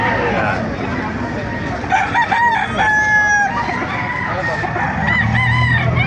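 Roosters crow loudly and repeatedly close by while chickens cluck amid noisy background chatter at a chicken market in Baliuag, Bulacan, Philippines.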